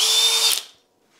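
A Flex 24V half-inch hammer drill with turbo mode (FX1271T) whirs loudly at high speed for about half a second, then spins down and falls silent, with no talk.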